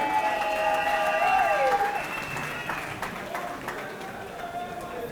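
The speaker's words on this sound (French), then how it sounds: "Sous vos applaudissements, est-ce qu'on peut accompagner les pas de Madame Gisèle Ndaya, s'il vous plaît?" An audience at a political platform conclave in Kinshasa breaks into loud, sustained applause and cheering, with voices and a whistle over the clapping before it slowly fades.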